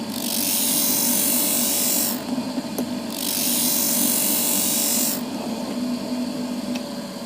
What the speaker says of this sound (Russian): На шлифовке по дереву не вижу смысла вообще останавливаться